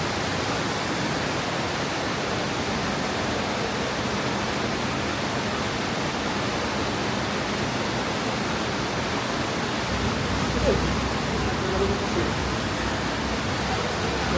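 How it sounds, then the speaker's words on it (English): Steady, full rush of a waterfall pouring into an aquarium's rainbow trout habitat, a constant close wash of falling water that never lets up over the whole stretch, with a faint murmur near the end. "Of course you got a beautiful waterfall."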